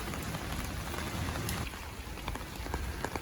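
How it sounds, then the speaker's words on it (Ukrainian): Rain falling steadily on a street in Odesa, a continuous close hiss of drops on surfaces with scattered louder drip taps, no voices. "А дощ все-таки пішов."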